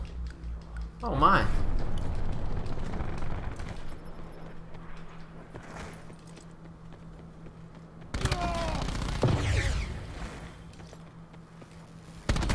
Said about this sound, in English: That guy with the shotgun is nuts.